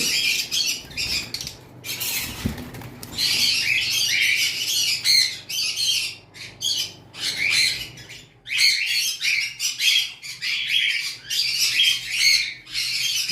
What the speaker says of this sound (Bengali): আমাদের কাছে কিছু গ্রিন ইউইং পাখি রয়েছে